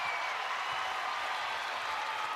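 Steady applause and cheering from a large crowd at a UConn versus Butler women's college basketball game after a quick bucket, a broad, even wash of clapping sustained throughout with no talk.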